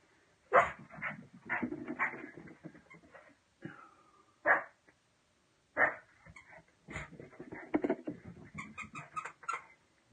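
A dog on a frantic run indoors, heard as a string of close bursts of barking and scuffling with short gaps between them, irregular and lively, and no talking.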